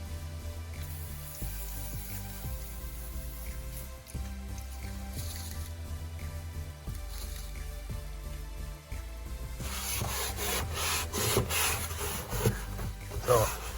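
A rag is rubbed and wiped over the dirty, lightly oiled surfaces of a car engine bay, giving a continuous close scrubbing and rasping that grows busier and louder toward the end.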